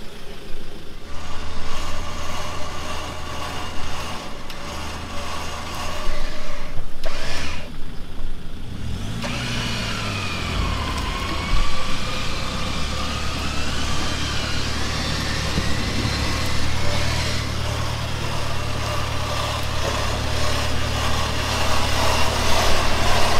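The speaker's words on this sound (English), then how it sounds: "go the winch straight up now" A steady engine drones throughout as a winch runs on an off-road spur track, with a mechanical whine rising and falling over it, continuous and fairly loud, with no one speaking.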